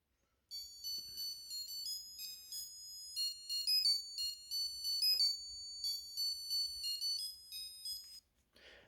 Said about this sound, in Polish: Tych melodyjek było więcej, bo mamy tutaj budzik.